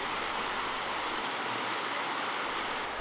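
Fast-flowing river in Costa Rica rushes steadily, a loud, continuous wash of water with no voices over it.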